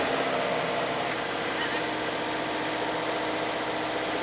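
A 2023 Subaru BRZ engine runs with its exhaust droning steadily, a constant low rumble and hum held at an even level throughout, with no voices.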